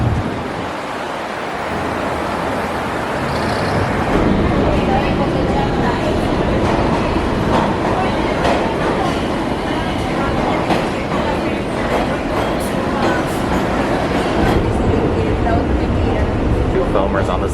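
A New York subway train rides along with a loud continuous rumble and rattle of wheels on track, filling the car with dense noise while people talk underneath.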